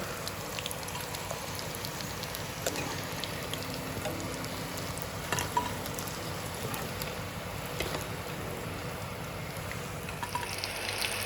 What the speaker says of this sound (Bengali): এবার আমি এই ফিশ ফিঙ্গারগুলো তুলে নেব, নিয়ে বাকিগুলো এভাবেই ভেজে নেব